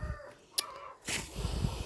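Hens in a garden coop give a few faint, short clucking calls close by, with quiet rustling and a soft thump between them.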